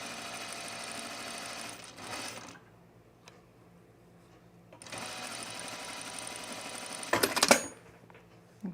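A sewing machine runs stitch-in-the-ditch on a 1930s-inspired blouse in two sustained bursts of rapid mechanical whirring, with a pause between them and a brief clatter near the end.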